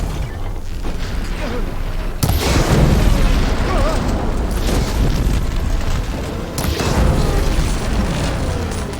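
Fire attacks in Horizon Forbidden West erupt in loud booming, crackling bursts, with two big blasts a few seconds apart over continuous rumbling combat noise.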